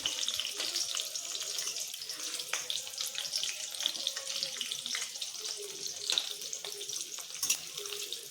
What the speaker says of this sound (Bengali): এই দেখুন বন্ধুরা ছোট ছোট করে আমি বড়াগুলো ভেজে নিচ্ছি